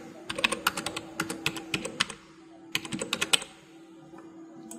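Card number typed on a computer keyboard, with quick clusters of crisp key clicks in two bursts separated by a short pause, close and clear over a faint background hum.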